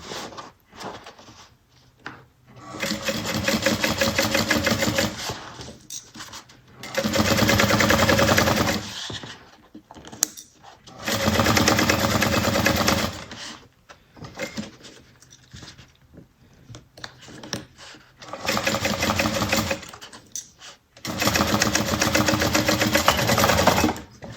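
A sewing machine stitches a Jasmine bag near the thick purse feet at the base, running in several loud, sustained bursts of rapid needle chatter separated by short pauses.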